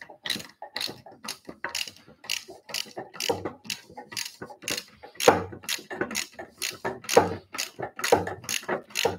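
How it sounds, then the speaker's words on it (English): A hand ratchet tightens nylock nuts on an Adirondack chair, giving a close, loud run of rapid clicking bursts in a steady back-and-forth rhythm. "We have big screwdriver and a ratchet to fit on there."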